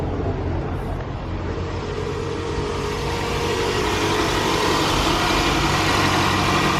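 A Scion xB engine idles steadily just after a spark plug and ignition coil replacement, giving a close, even, continuous low hum with no talking.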